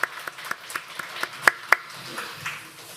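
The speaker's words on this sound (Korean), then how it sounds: "우리 박수로 하나님께 영광 돌리겠습니다" At a Christmas worship service, a church congregation offers a few scattered hand claps. The claps are soft and irregular, with a couple of sharper ones near the middle, and they taper off quickly into quiet room sound.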